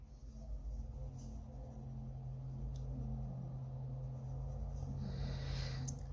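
A pencil scratches across paper while sketching a drawing of Jean Grey, soft and close, strokes continuing over a low steady room rumble.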